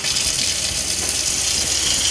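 Water runs hard from the kitchen sink faucet of a Winnebago EKKO Sprinter RV during de-winterizing, a steady close gushing hiss splashing into the basin without pause and with no voices.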